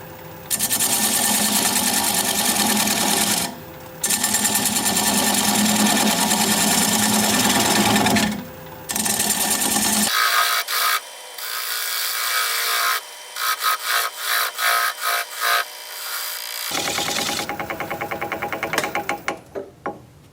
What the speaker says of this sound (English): I'm going to take a 3/8 inch standard grind bowl gouge and commence to removing that tenon.